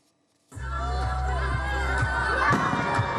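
A crowd of over a thousand, adults and children, at a July festival fireworks display in Punaauia, Tahiti, bursts into cheering and shouting after a silent start, the roar holding steady over a low, continuous hum.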